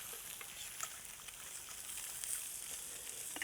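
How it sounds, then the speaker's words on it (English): Cooking water pours off freshly boiled cauliflower as it is drained, a steady bright hiss and splash with small crackles, close and continuous throughout, no voices. "The cauliflowers are cooked. Now, I'm going to drain them."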